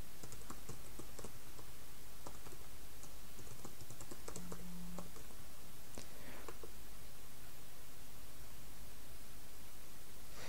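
Soft keystrokes tap on a computer keyboard while a password is entered, faint clusters of clicks set against a steady background hiss.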